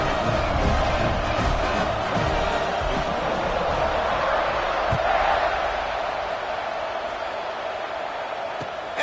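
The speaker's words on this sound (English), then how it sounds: "this crowd is buzzing after that last score" A college football video game stadium crowd buzzes loudly after a touchdown, a dense continuous roar of voices and cheering that eases slightly over several seconds, with a commentator talking over it.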